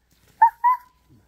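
A voice imitates a dog barking, two short high "woof" sounds in quick succession, close and clear with silence around them.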